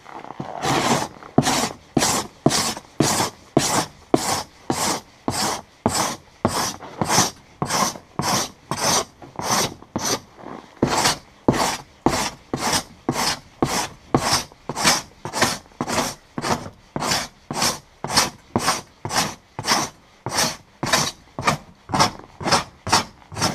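Rhythmic rasping strokes of a scraper shaving frozen fat and meat off a black bear hide in bitter cold, about two loud, close strokes per second repeating steadily without a break.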